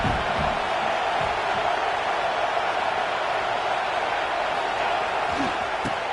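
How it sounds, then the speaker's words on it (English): Stadium crowd roaring at a college football game in NCAA 26, a dense continuous wall of noise that stays loud throughout while a commentator talks over it. "Listen to this crowd just shaking the girders of this place"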